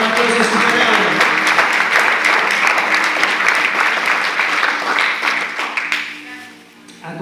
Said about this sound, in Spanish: Denle un aplauso al Señor, denle un aplauso a su palabra